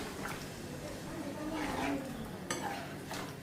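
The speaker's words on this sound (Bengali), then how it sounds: "একটা ফ্রাই করে নিই ডালগুলি দিয়ে দিলাম" Lentils tipped into a hot frying pan during home Bengali cooking give a steady broadband sizzle with scraping and clinking of a utensil against the pan, close and continuous, with a muffled voice faintly underneath.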